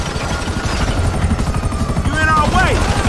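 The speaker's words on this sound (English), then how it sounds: "We gotta take out that chopper." A video game helicopter's rotor thumps in a fast, steady beat, loud and close throughout, while voices talk over it and a brief whistling tone rises near the end.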